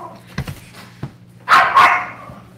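Big dogs barking outside a farmhouse door on Alderman Farms, wanting to be let in: a few sharp near barks early, then two louder, longer barks with whining, over a low steady hum.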